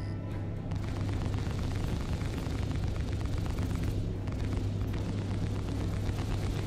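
Missiles exploding in a space combat video game pitting an Anvil Carrack against an Aegis Hammerhead, a loud, roaring run of blasts over a thick, constant low rumble.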